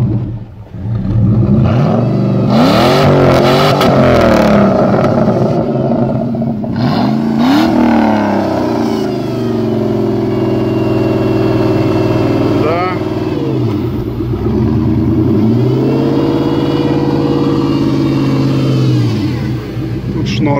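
Jeep Grand Cherokee WJ sport prototype with a 4.7 V8 revs hard again and again, its exhaust surging up and dropping back over a steady low rumble, loud and close throughout.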